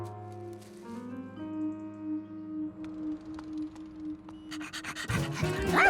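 A cartoon dog panting in quick, soft breaths over sustained background music, building into louder, busier sounds near the end.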